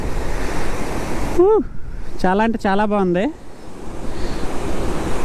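Tarabu waterfall near Araku roars loudly up close, a dense broadband rush of falling water and spraying mist that continues under a man's brief excited speech.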